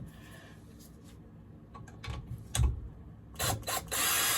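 A ratchet with a deep socket works on a hydraulic fitting: a few scattered clicks and clunks, then a louder run of rapid ratcheting close by at the end.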